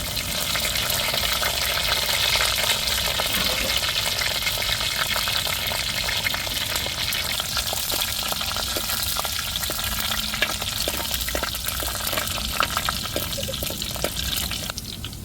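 Curry leaves and small onions tempered in hot oil for egg curry sizzle loudly and steadily, with crackling pops, spatters, and occasional stirring clatter throughout.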